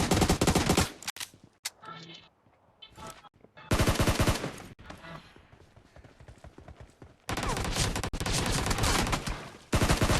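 Automatic gunfire in the mobile battle royale game BGMI, loud rapid bursts of shots, some long sustained strings and some short, separated by brief quiet gaps.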